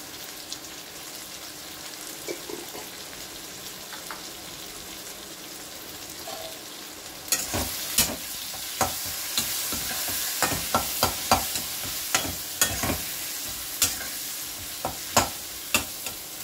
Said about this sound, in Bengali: আলুগুলো একটু ভালো করে ভেজে নিতে হবে।